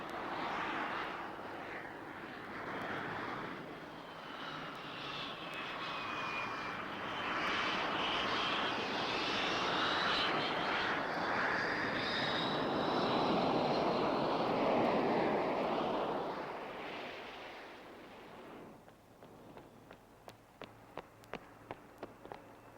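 A Royal Air Force jet aircraft engine blasts loud and steady for about eighteen seconds, roaring with a shifting whine, then cuts off, leaving faint, sparse clicks and a low hum.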